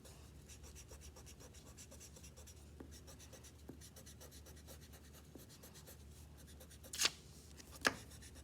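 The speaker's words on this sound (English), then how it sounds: "I'm gonna erase some of my pencil lines that I left behind" Erasing pencil lines on paper, a soft, continuous rubbing scrape at close range, capped by two sharper brushing sweeps near the end.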